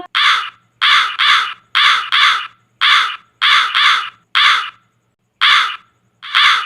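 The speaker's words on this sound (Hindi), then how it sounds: "कौवे की काय काय की आवाजें" Cartoon crows caw over and over in a loud, close chorus of harsh calls, bunched in rapid pairs and short bursts with brief silent gaps between them and no talking.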